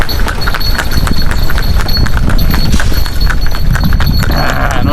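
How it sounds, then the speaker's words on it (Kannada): Hooves clip-clopping as a horse pulls an old horse cart at speed, a steady rapid rhythm of close, loud hoof strikes over rumbling cart noise, with a little faint talk. "ಸ್ಪೀಡ್ ಆಗ್ತಿದೆ ಕುದುರೆ."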